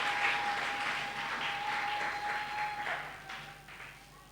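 A church congregation applauds and cheers in a sustained, moderately distant wash of clapping and crowd noise, with a steady hum running underneath.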